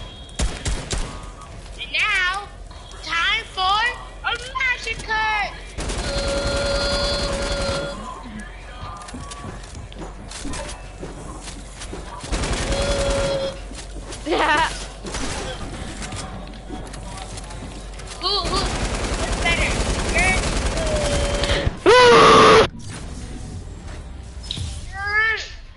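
Gunfire in the video game Fortnite, bursts of rapid shots and single blasts that recur through a busy match, mixed with other game effects and players talking over it.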